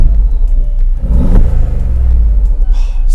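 A Mercedes G63 AMG engine growls and rumbles loudly and close by, its deep, raspy note swelling as it revs, with some faint voices mixed in.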